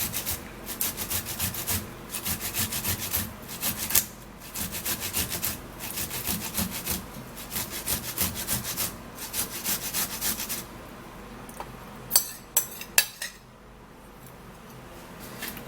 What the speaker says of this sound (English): I'm also going to be grating the tomato.